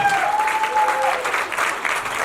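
An audience at a Hindi film trailer launch applauds for Sadanand Shetty in a brief, dense burst of clapping that carries on without a break, with a thin tone sounding faintly over it early on.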